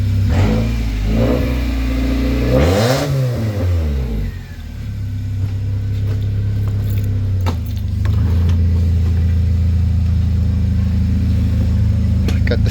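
A homemade buggy built from a Toyota Corolla, its engine revving loud and close, rising and falling in pitch through a hard acceleration before settling into a steady drone as it drives off, with a few words spoken over it.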